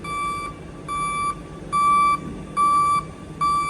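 Tejas Express (Chennai Egmore–Madurai) reversing into platform 2 at a station, sounding five loud, evenly spaced electronic reversing beeps, each about half a second long, over a low rumbling background.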